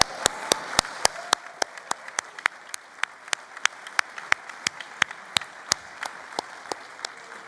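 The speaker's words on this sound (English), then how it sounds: "A big round of applause." Applause from an audience at a Labour Party conference: a steady patter of many hands with sharp, evenly spaced louder claps cutting through, moderately loud and continuous throughout.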